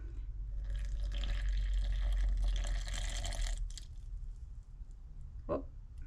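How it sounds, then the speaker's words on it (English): Water pours steadily into a sourdough starter for a few seconds, a close trickling splash that fades out, followed by a brief knock near the end. "And then we're going to add our water."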